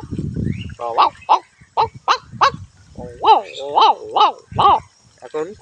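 A voice imitates a puppy, producing a run of short, high yelping whimpers in quick succession, close and fairly loud, after a brief low rumble at the start.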